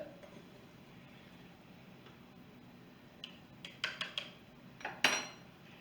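Utensil stirring a slurry in a pressure cooker pot while honey soy pork tenderloin cooks, with a quiet low hum followed by a handful of sharp metallic clinks and scrapes, close and fairly faint.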